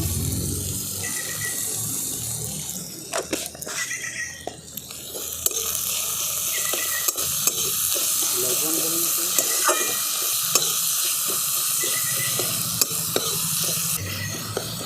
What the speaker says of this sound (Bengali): টমেটো পেঁয়াজ আদা রসুন সব ভাজা ভাজা করে নিয়েছি।